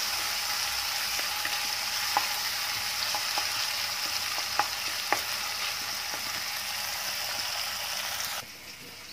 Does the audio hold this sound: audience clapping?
no